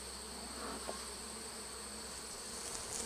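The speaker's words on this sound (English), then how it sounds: "The bees are starting to become a little more aware of me now." Honeybees hum around an open modified Warre hive during an inspection, a steady close buzzing with a high whining tone, even and unbroken for about three seconds, with a soft bump near the end.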